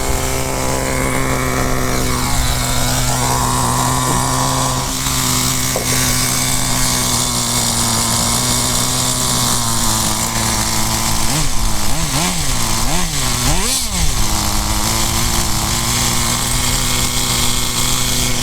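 A Pureten MK2 two-stroke engine runs steadily at a loud, buzzing idle while its idle speed is adjusted, with brief revving blips near the end and no talk.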